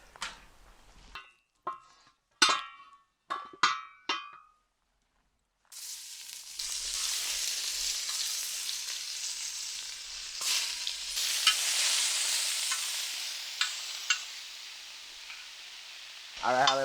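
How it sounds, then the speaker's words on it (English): Meatballs hit a big gigantic wok outdoors and sizzle with a steady, loud frying hiss for about ten seconds, after a few sharp knocks and clatters, with faint stirring scrapes. "Throw them on this big old gigantic wok here"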